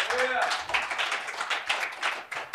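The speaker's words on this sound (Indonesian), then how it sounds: "Kasih tepuk tangan yang meriah buat Allah kita." A church congregation applauding during a sermon, lively uneven clapping in bursts that rise and taper, with a voice briefly audible near the start.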